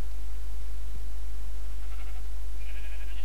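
A sheep is killed in Minecraft, giving faint, brief game bleats over a steady low hum.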